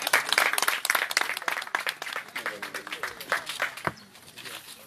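Applause from an audience at a press event, steady clapping with voices and crowd noise mixed through it, fading somewhat toward the end.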